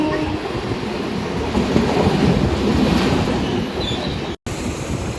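A MEMU passenger train running between Visakhapatnam and Palasa, heard from on board as a continuous rumble of wheels on rails with faint squeals and rhythmic clatter, swelling midway and then briefly cutting out near the end.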